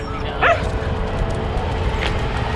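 Dogs at a half-marathon event give a couple of short yips and barks close by, the first a quick burst and a second softer one, over crowd noise.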